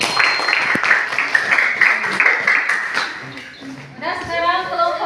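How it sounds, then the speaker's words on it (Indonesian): A classroom group claps briefly for the third group's presentation, the short patter of applause mixed with people talking before the talk continues. "tepuk tangan untuk kelompok 3."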